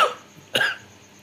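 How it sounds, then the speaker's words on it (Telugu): A man gives one short, dry cough, close and loud, inside a car, with quiet background between. "దగ్గు వస్తుందా, మస్తు వస్తుంది."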